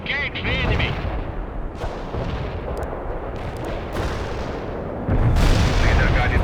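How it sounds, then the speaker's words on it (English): Heavy rumbling battlefield explosions from laser-guided bombs in the World in Conflict video game, dense and continuous with a sharper, louder blast near the end, mixed with gunfire-like crackle. "Delivering a laser-guided bomb to the Target coordinates."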